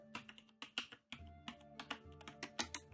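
Typing on a Logitech G910 mechanical gaming keyboard, a quiet, fairly even patter of close key clicks and taps with a short pause near the start, and no voices.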